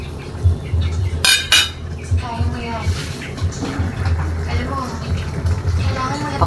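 Coconut milk poured into a cooking pot for chicken ginataang, with clinks of utensils against metal and liquid sloshing, heard under a person talking nearby.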